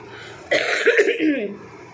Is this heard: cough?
yes